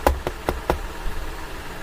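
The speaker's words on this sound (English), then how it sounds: "Thumbelina knocked on the door," Four quick knocks on a door land in the first moment in an even rhythm, crisp and close, then fall into quiet room tone.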